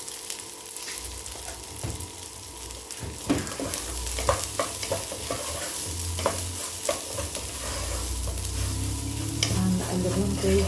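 Basmati rice stir-fried with black pepper in a pan, a continuous sizzle broken by scraping spoon strokes as it is tossed, close and clear.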